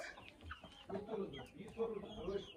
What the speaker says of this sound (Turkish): Horoz da var galiba